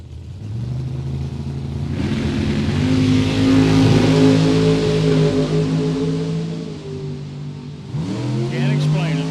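Drag race cars, including a Camaro, launch down the lane at a Super Pro drag race, engines roaring loud and rising in pitch as they pull away, then a second car revs hard near the end, with an announcer talking over it.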